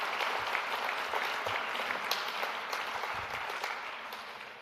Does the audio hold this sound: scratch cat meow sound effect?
no